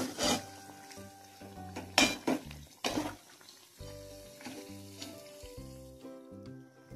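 A wheat-flour snack fries in a pan of oil as it is flipped, with several sharp clanks of a metal turner against the pan over a steady low sizzle; background tones carry throughout.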